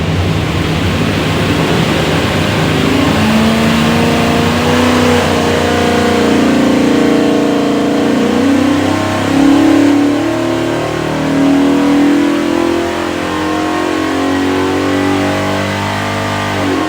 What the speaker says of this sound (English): we'll go make a run on her and see how she does